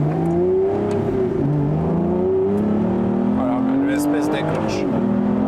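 Aston Martin V12 Vantage S with its V12 engine accelerating, a loud, close engine note whose pitch climbs and drops through several gear rises while someone talks over it.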